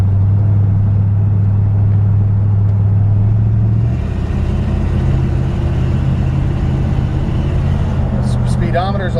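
A 1966 Ford F100 truck drives along at a steady pace, its low engine drone and road rumble continuous throughout, with a shift in the engine note partway through and brief faint higher noises near the end.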